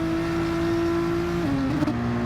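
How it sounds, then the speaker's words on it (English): A race car engine in a racing video game holds a steady drone that drops and stutters near the end, hesitating as the revs waver, heard alone at close range. "you can definitely hear that there's a bit of hesitation to the engine"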